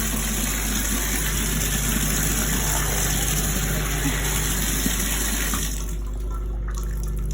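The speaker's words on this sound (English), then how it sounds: "I'm just kind of rinsing it off, seeing what it looks like" Steady running water rinses a cyanotype print in a tub, a constant close rush mixed with a low background hum, easing off near the end.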